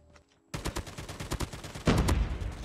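Rapid automatic M4 gunfire from an SMG build in the Call of Duty Mobile video game, a fast close burst of evenly spaced shots that grows louder and denser partway through, with no voices.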